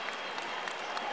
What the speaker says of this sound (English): It's not often he gets to play, so he's going to get a great round of applause.